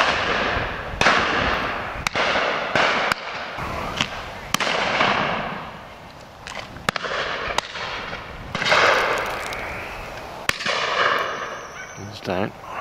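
Shotgun shots at a farm bird shoot ring out as several sharp, loud reports spread across the clip, with a brief pause between some, over outdoor background noise and occasional voices.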